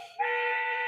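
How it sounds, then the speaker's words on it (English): A short train whistle from the Strasburg 90 train simulator sounds after a brief quiet start, a steady, loud, multi-tone note held to the end. "That's just your little train whistle on Ox 3 key"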